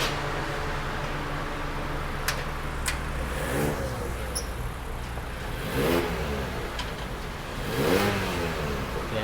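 A Mazda CX-3 engine fitted with a header and a new exhaust revs repeatedly in blips over an idle, each rev rising and falling, up close and loud, with no talking.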